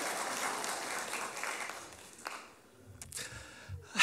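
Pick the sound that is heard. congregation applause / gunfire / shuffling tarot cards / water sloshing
congregation applause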